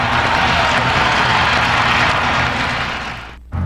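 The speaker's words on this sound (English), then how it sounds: "The crowd back in it on a 9-0 run." Basketball arena crowd cheering loudly and steadily during an NBA game between the Kings and the Jazz, a dense roar that holds for about three seconds before cutting off abruptly.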